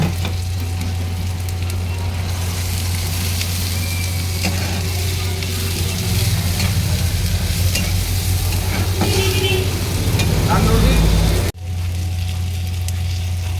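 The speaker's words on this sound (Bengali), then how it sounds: "এবারে এই পেঁয়াজ আর অল্প একটু ক্যাপসিকাম ছিল ওটাও দিয়ে দিলাম" Chopped tomato, onion and capsicum fry in a pan for Maggi noodles, a loud, close, continuous sizzle with scraping stirs, a clatter near the end, then the sizzle carries on under a low hum.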